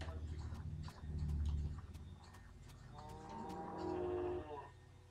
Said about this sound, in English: Oh, these guys might be cows.